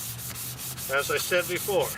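A car headlight lens is dry sanded by hand in quick, rhythmic scratchy strokes, close and fairly loud, with a brief voice speaking at the start.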